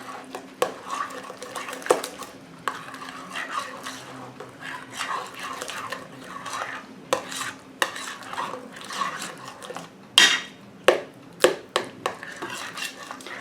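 Spices stirred into fresh pumpkin pie filling with a spoon in a bowl: soft, repeated scraping strokes at a steady rhythm, close and quiet, with a few sharper clinks near the end.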